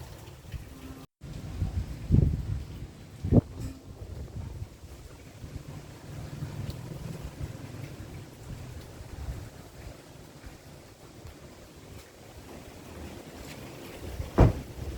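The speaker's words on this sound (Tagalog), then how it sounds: "malakas po yung hangin" Strong wind during typhoon signal no. 3 in Paniqui, Tarlac, a continuous low buffeting roar against the microphone with a few sharper gusts, faint and steady throughout with no talking.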